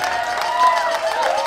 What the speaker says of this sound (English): Can I give one more big round of applause?